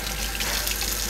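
Lukewarm tap water gushing steadily into a kitchen sink as vegetables are scrubbed, a close, continuous hiss with no talk.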